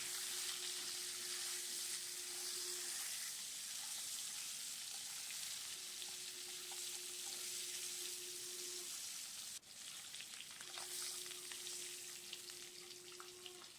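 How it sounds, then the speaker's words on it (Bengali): Duck eggs fry in a pan with a dense, continuous close sizzle throughout, steady and loud, with a recurring faint whine over it and a brief dip near the end. "ডিমগুলো ভালো করে ভেজে নেব"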